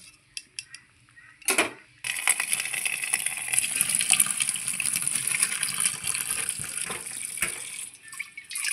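Boiled jackfruit seeds and kharkol leaves poured from a pot into a strainer, a few light clinks, then a sudden watery rush that gushes and splashes steadily for several seconds, close and fairly loud.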